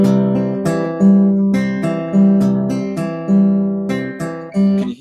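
Acoustic guitar fingerstyle pattern played continuously with no gap, steady thumb-driven picked notes in an even rhythm with a repeating low bass note, close and clear with no talking.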